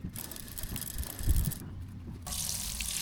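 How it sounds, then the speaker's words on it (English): Water from a hose or tap splashes over a mountain bike to rinse off leftover chain degreaser, a steady gushing spray that surges and shifts in intensity, close and moderately loud with no talking. "I washed off any leftover degreaser with some water"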